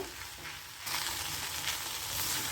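Lady finger (okra) frying in a pan: a loud, continuous close sizzle that swells stronger partway through, with no talking.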